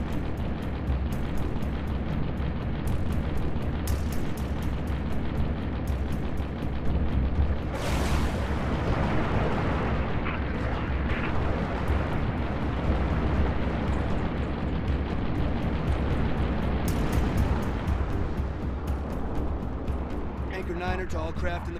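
Missile explosions and heavy combat noise from the Halo Reach video game, a dense continuous roar with bursts of blast energy around the middle and later, voices talking over the din.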